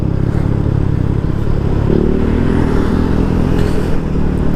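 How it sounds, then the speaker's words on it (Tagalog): A motorcycle exhaust with the silencer removed rumbles loud and close, a steady deep idle with a slight rise in revs partway through, and no talk over it. "Medyo nagagandahan nga din ako sa tunog ng tambutso na to."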